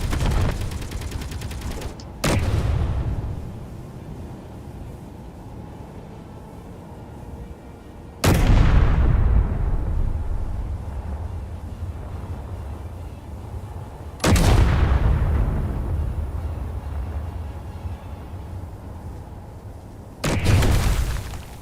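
Heavy weapon fire and explosions ring out during a live fire test in Space Engineers: five loud, booming blasts at spaced intervals, each with a long rumbling decay.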